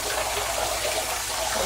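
Bath water running from a tap at low pressure, a steady, even rushing hiss that holds constant without pause.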